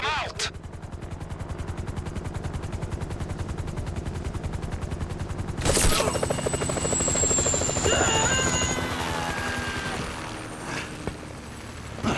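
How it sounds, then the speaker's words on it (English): Helicopter in the video game Grand Theft Auto V, a steady rotor chop loud throughout, joined midway by a burst of gunfire and whining engine tones with a voice briefly heard. "That chopper's gonna be on us."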